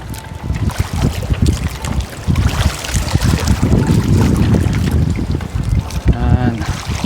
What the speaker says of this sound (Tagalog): Mahangin na naman po.